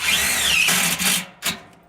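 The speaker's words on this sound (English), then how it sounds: "and then we'll go ahead and screw both of those studs together" A power drill drives screws through a metal connector plate into wooden studs for an outdoor kitchen frame, a loud close whine followed by a short second burst.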